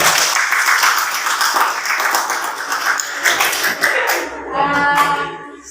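An audience at an academic supervision coaching session claps hands, a dense, steady patter of many claps that fills most of the clip before tapering into a few scattered claps and a voice near the end.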